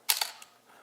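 A Nikon FG film SLR shutter fires with a sharp mechanical clack followed by a quick second snap, then a softer click, close and crisp.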